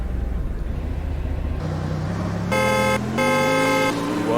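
A car driving in the Roblox game Car Dealership Tycoon, a loud steady engine hum rising in pitch through gear-like stages, with a bright horn-like tonal tone joining partway.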